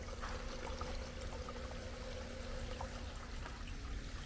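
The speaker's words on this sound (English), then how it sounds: "there's the sound. As you can see, there's water coming out." Water pours and trickles out of a backyard hydroponics system with a slight splash, a steady close liquid flow over a low continuous hum, with no talking.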